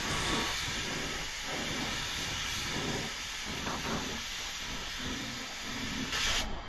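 Paint spray gun laying a second coat onto a new plastic bumper, a steady close hiss of atomised spray running throughout with slight surges as the gun passes.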